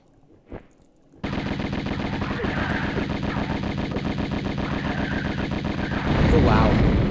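Sustained automatic gunfire in the Tomb Raider video game, a loud rapid stream of shots lasting several seconds after a brief quiet opening with a single short knock, getting heavier near the end.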